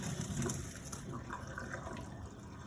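Cooked rice drained into a strainer, water pouring and splashing steadily for a few seconds, close and fairly loud, with a brief voice near the start.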